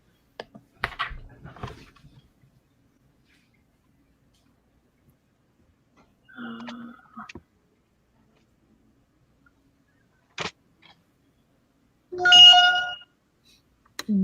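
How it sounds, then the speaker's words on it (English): A mobile phone makes a few short electronic tones, spread across a mostly quiet stretch, with one louder burst near the end. Faint tapping is also heard, but no talking. "That was my phone making a noise at me."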